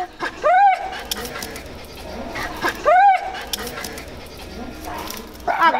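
A female dog that has come into heat barks and whimpers in two sharp bursts near the start and middle, amid a commotion of people shouting to hold her back.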